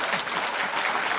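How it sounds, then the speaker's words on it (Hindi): Crowd at a public talk clapping together, a dense, loud, unbroken roar of many hands filling the whole moment without speech over it. "ताली बजाइए आप लोग"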